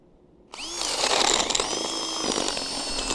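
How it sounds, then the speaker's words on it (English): A power drill starts abruptly and bores into a tree stump, whining loudly and steadily with a high, grinding pitch. It runs close and alone for about three seconds. "make sure I got it going on drill."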